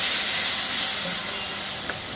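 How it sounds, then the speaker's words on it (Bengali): Chopped tomato frying in a hot pan, a dense steady sizzling hiss, loud and close throughout with a slight fade toward the end. "এইখানে একটা বড় সাইজের টমেটো কুচি করে রাখছি, ওইটা দিয়ে একটু ভেজে নিব এর সাথে"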